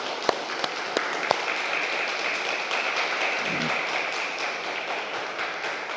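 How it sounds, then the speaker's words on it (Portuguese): A church congregation at a Bible-school class claps in a moderate, continuous wash of applause, with a few sharper nearby claps standing out at the start and a brief low murmur partway through. "Vamos dar uma salva de palmas para Jesus."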